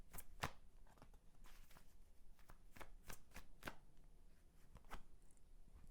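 Tarot cards being shuffled, a soft close riffle of rapid papery flicks and taps repeating in quick clusters, quiet and alone with no talk.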